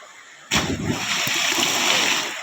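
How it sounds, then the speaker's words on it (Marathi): A sudden splash of river water as someone plunges in while swimming, a sharp loud burst followed by churning, sloshing water for about two seconds, close by. "अरा माझ्या अंगावरती पाणी उडाला"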